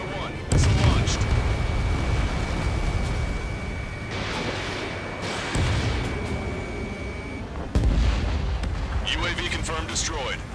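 Missile explosions destroying a UAV in the jet combat game Ace Combat 7, heavy booming blasts at about half a second and near eight seconds over a continuous roar of jet engines, with radio chatter mixed in.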